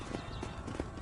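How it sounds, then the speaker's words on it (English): Horse hooves clip-clop in a steady trotting rhythm in the Red Dead Redemption video game, close and continuous over a low rumble of ambient noise. "Hit your horse and wait for me by the stable."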